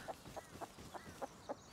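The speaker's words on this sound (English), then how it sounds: "Is that a fucking chicken?" A chicken in the Rust video game clucks in short, evenly spaced bursts, about six soft clucks close by over a quiet background.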